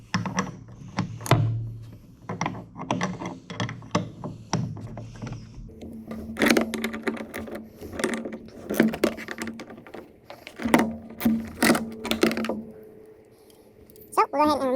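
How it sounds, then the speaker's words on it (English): Close metallic clicks and ratcheting from a wrench working a 13 mm bolt on a Kawasaki Mule 550 headlight mount, coming in short irregular bursts with pauses between them, with a few faint creaks and scrapes. "now we're going to remove the 13 millimeter bolt. So we'll take our wrench."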